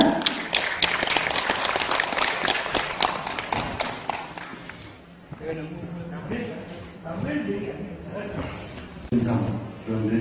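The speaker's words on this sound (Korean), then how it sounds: "교수님을 따뜻한 박수" At a ginseng industry forum, the audience gives a warm round of applause to welcome a lecturer, with loud, dense clapping that tapers off after about four seconds as a voice begins speaking.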